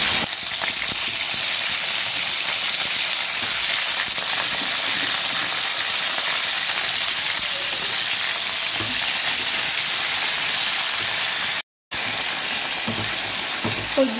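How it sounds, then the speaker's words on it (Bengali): Flat beans sizzle loudly in hot oil with black cumin, dried red chillies and five-spice seeds, a dense, continuous crackling hiss close by that drops out for a moment near the end. "এবার ছিমগুলো দিয়ে দেবো"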